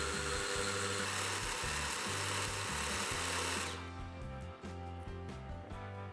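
A food processor whirs steadily as it grinds seasoned minced meat into a smooth mixture, a loud continuous motor drone with a rhythmic chugging that shifts in tone partway through; no voices.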